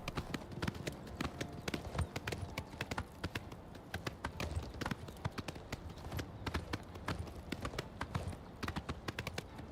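Horse hooves clip-clop steadily and busily in the snowy mountains of the game Oblivion Remastered, a dense, continuous run of close, fairly quiet hoofbeats with no speech over them.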